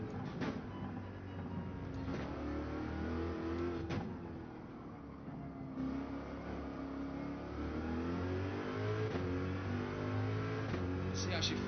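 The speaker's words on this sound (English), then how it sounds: "We'll just listen to the car." A Gran Turismo 7 race car engine revs and shifts steadily, its droning hum rising and falling in pitch, with faint voices over it.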